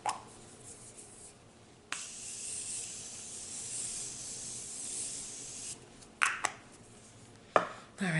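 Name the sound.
Morphe setting spray being sprayed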